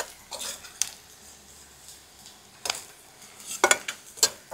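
Salted onions being sautéed for egg masala are stirred in a pan with a spoon: a few sparse scrapes and clinks against the metal over a faint, steady sizzle, with no talking.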